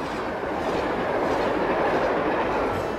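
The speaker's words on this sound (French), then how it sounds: "Malgré le bruit et les vibrations à chaque passage de rame" A train rolls past close by along a rail line beside stork nesting sites, a loud, steady rumble and rattle of wagons over the track that holds for the whole stretch, with no voices.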